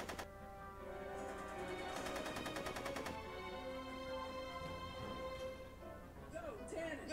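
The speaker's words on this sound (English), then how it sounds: "Are you shooting at me?" Gunshots in Telltale's Back to the Future game, several sharp cracks mixed into a busy game soundtrack with music and character voices, a rapid cluster of shots near the middle and more scattered ones later.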